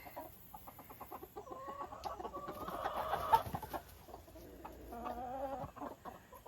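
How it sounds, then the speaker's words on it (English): Three roosters cluck and murmur nearby in a farm pen, with repeated short clucks and rising calls coming in bursts over a quiet background. "Look, there's the 3 roosters together, not bothering each other."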